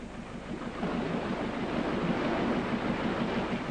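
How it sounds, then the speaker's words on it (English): Water rushes through a canal lock in a steady, roaring churn that swells slightly after the start and then holds, with no voices. "The old paddles creak and groan. The water rushes in and out"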